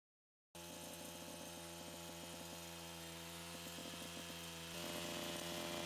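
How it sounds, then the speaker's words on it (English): A power edger runs steadily along garden bed edges beside bark mulch beds after a short silence, a loud, droning motor whine with a buzzing engine tone that grows a little louder toward the end. "then I'm just gonna hammer it out with the edger"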